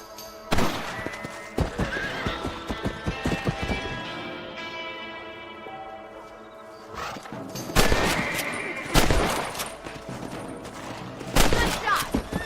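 Gunshots ring out while hunting rabbits in the Red Dead Redemption video game: several sharp, loud cracks spaced a few seconds apart, mixed with horse whinnies, hoof clip-clops and a steady musical score.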